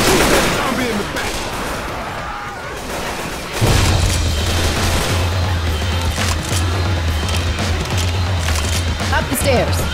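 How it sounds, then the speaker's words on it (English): Gunfire rattles in Left 4 Dead 2 as survivors shoot zombies, with loud repeated shots and booms over a continuous low hum while people shout and talk throughout. "Shoot that zombie in the back!"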